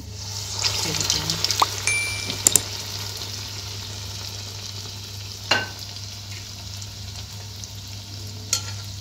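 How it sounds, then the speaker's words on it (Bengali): Medu vada frying in oil over a low gas flame, giving a soft, continuous hiss of bubbling oil with a few sharp clinks and taps scattered through it. "স্লো গ্যাসে আমি মেদু বড়াগুলোকে ভাজবো"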